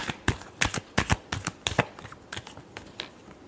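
Tarot cards are shuffled by hand in quick papery riffles and flicks, an uneven run of close crisp bursts that thins out toward the end, with no talking.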